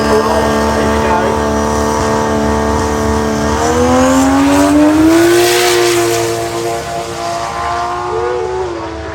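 A 2JZ-powered KE20 Corolla race car accelerates hard, its engine note climbing steadily in pitch as it revs through the run, loud and close, with faint background noise.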